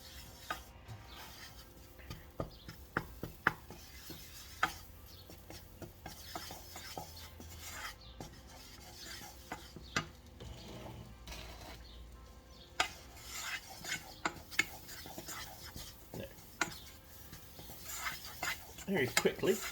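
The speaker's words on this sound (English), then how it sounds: "So that's just mixing again" Roux being stirred in a pan, quiet scraping and rubbing with irregular clinks of a utensil against the metal, soft and close.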